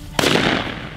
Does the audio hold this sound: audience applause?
no